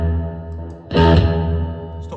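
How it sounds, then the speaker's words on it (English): An electric guitar through a tape delay effect hums with a sustained distorted tone, then a fresh strummed note bursts in loud and close, ringing on with a smeared repeating tail. "Here is a tape delay."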